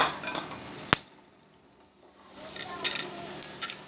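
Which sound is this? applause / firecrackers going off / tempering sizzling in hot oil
tempering sizzling in hot oil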